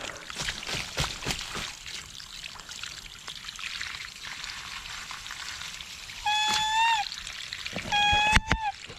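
Water rushing strongly from a mountain water pipe connection, a steady broadband flow and splashing, close and continuous, with a short whistle-like tone sounding twice near the end.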